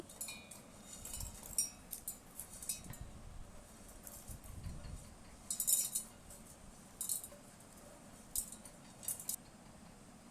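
Ingredients for dosa batter being tipped and scraped into a mixer grinder jar, a series of close metallic clinks and spoon scrapes against the steel jar, with louder bursts of clatter spaced irregularly over a low kitchen hum.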